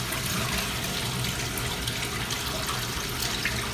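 Dirty water drains steadily out of the recovery tank hose of a B150 floor scrubber: a continuous rushing, splashing flow that stays even from start to finish, with no voices.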